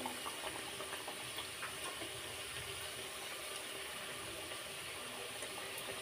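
Fuchka puris fry in hot oil until golden, making a steady, dense sizzling hiss that stays even and continuous throughout, with faint crackles and no voices.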